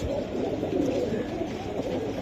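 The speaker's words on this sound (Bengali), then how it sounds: "এটা ওই বইল কবুতর, একবার বইল, হ্যাঁ সাইজ কবুতরের মাশাআল্লাহ" Boil breed pigeons coo at a busy pigeon market, a steady low murmur of cooing lasting a couple of seconds beneath crowd noise, with no clear speech.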